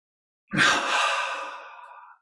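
A deep breath drawn in through the nostrils during a guided relaxation exercise, one long airy inhalation close to the mic, sharp at the start and trailing off gradually over about two seconds.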